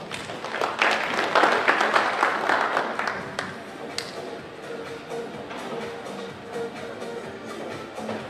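An audience claps for a women's 25m pistol final at the 2017 European Shooting Championship in Baku, with a burst of dense applause that swells then fades into scattered claps and taps.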